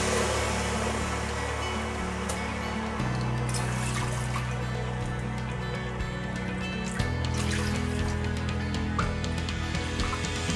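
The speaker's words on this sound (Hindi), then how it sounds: "इसी कटोरी से आपको 4 कटोरी पानी इसमें डालना होगा।" Water is poured from a bowl into a pan of sugar to make syrup for rasmalai, a continuous trickling splash running steadily alone over a constant background hum.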